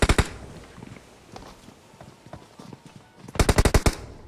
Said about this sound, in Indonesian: Itu tembak.